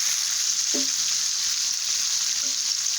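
Blue Lake green beans hiss and sizzle in hot bacon grease, a steady loud frying crackle with a couple of brief clinks from a utensil, no voices.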